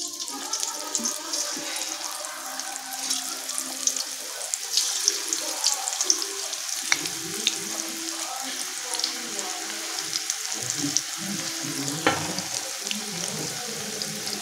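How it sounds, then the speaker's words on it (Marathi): Aloo wadi pieces deep-fry in oil in an iron kadai over a medium flame, giving a steady crackling sizzle with occasional metallic clinks and stirring sounds. "तर आता ह्या आपण तळून घेतोय"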